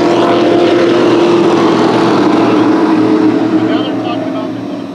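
Southwest Tour race trucks roar together at the green flag on an oval speedway, a loud, dense engine drone that holds steady and then slowly fades as the pack pulls away.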